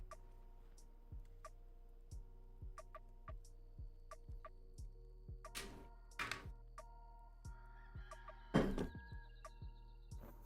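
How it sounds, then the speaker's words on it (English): Rooster crowing in the Enshrouded survival building game, a fairly faint call rising over steady ambient ticking and low game background, with a louder burst of game sound near the end. "Even have a rooster sound."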